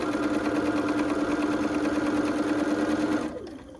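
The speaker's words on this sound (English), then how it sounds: "put my foot down and sew" A sewing machine stitches steadily through quilt fabric for about three seconds, running loud and close at an even pace before winding down and stopping.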